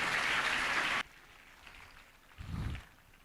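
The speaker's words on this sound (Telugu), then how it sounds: "గట్టిగా చప్పట్లు కొట్టి ప్రభువుని స్తుతిద్దాం." A church congregation at a prayer service bursts into loud, dense clapping in praise for about a second, then it stops abruptly, leaving quiet room tone and a brief low thump.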